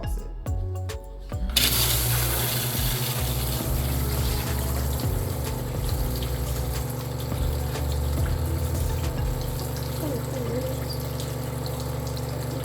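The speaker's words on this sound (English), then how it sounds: "please wait for the water pump to fill." A portable shampoo bowl's water pump hums steadily with a low droning tone throughout, water rushing and filling beneath it, after a brief quieter start.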